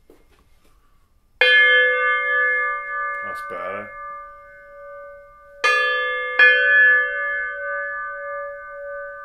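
A sound therapy singing bowl is struck several times, each strike ringing out with a long sustained shimmering tone; a short spoken remark comes between strikes, close and clear.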